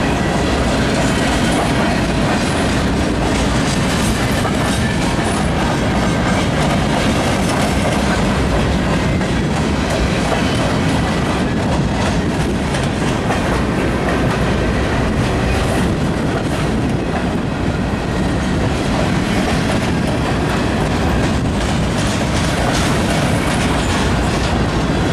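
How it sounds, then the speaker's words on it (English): A CN eastbound local freight train led by locomotives 5436 and 5441 rolls past in Battle Creek, Michigan, with a loud continuous rumble, rhythmic clickety-clack of wheels over rail joints and occasional squeals. "Local freight train."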